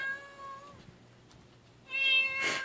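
A black cat named Goma meows, with a long, clear, high call that fades and then a second loud meow near the end, close and alone with no voices.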